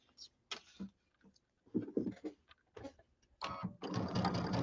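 A sewing machine stitches a quarter-inch seam around a small pillow in short, stop-start runs, ending in a longer steady whir, close and fairly quiet, with no voices.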